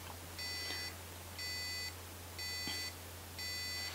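An electronic buzzer of a WhatsApp alert device sounds in four evenly spaced, steady half-second pulses over a low constant hum, with no voices.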